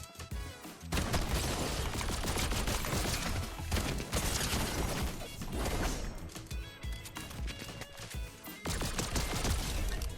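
Rapid bursts of gunfire from the Fortnite battle royale game, dense and loud almost without pause, with heavy impacts and mechanical clatter between volleys.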